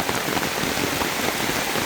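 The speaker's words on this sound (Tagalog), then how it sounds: "Grabe kaayo ang kuan, grabe kaayo ang ulan, ganina ra kaini." Heavy rain pours down steadily in a dense, constant wash of hiss and patter, loud and close throughout with no pauses or voices.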